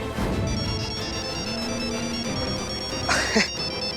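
A phone ringtone plays a steady electronic melody in the background while a person speaks over it, followed by a short sharp noise.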